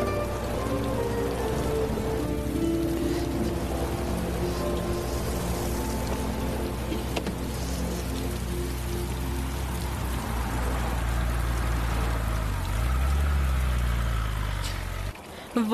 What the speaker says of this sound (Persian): وای خدای من چه بارونی داره میاد